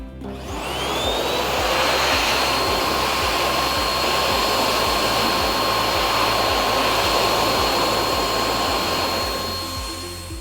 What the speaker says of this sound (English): Speed of the airflow over 500 kilometers per hour, drying in approximately 10 seconds.